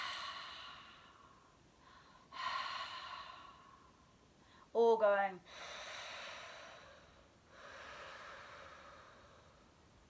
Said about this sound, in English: try pretending you're misting up a mirror like this